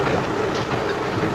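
A train rolls along on its rails in a steady, even rumble with a faint rhythmic clatter, moderately loud and continuous, with no voices heard.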